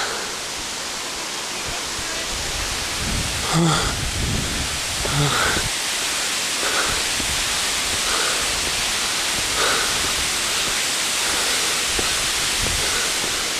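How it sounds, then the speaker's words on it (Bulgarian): Steady broadband roar of the Slivodol waterfall (Slivodolsko padalo) filling the whole clip, close and continuous, with a few brief voiced exclamations breaking through around the middle. "Усещат се пръските на водопада."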